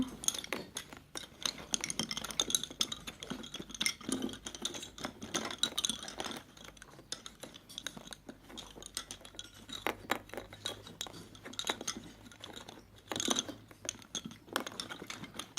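Wooden bobbins clink and tap against each other in quick irregular clusters while Gozitan bobbin lace is worked and a plait is taken in, close and fairly quiet with no talk.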